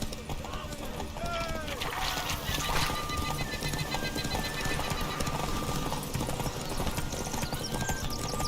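Horses gallop in a rapid, continuous clip-clop during a Skellige horse race in The Witcher 3 video game, with hoofbeats up close, a brief whinny and voices underneath.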